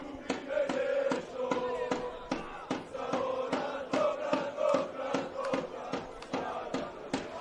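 Football crowd of over a thousand at a Melbourne Knights FC versus Melbourne Srbija match, a rhythmic chant with repeated sharp claps or drumbeats roughly every half second over a steady roar, sustained throughout.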